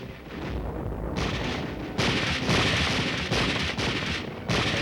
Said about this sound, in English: In mock villages, trainees using live ammunition and grenades learn the special tactics of street fighting